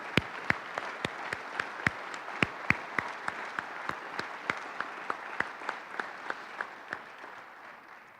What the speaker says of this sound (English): So can we give them a big round of applause and thank you.